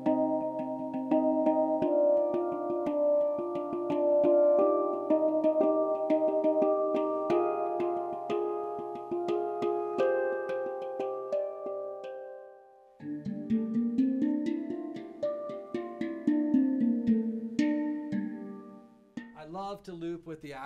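An aqua drum heard through magnetic pickups gives ringing, metallic tuned tones with a watery, wavering resonance, played in a steady pattern that pauses briefly then resumes with bending, warbling pitches.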